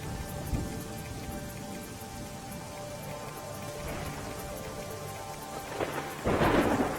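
Steady heavy monsoon rain pours throughout in Nakhatrana, Kutch, Gujarat, with a deep rumble of thunder building and a louder crack near the end.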